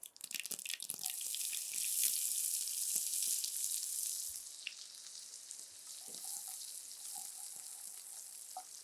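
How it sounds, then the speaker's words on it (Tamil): Chopped onions are added to hot oil after mustard seeds finish spluttering, for a small-potato egg curry. They sizzle with a loud, bright crackle that settles into a steadier fry, broken by scattered pops and clicks close by. "கரெக்டாக அந்த கடுகு பொரிஞ்சதுக்கப்புறம் நம்ம இந்த வெங்காயம், நறுக்கின வெங்காயம் சேர்த்துக்கலாம்."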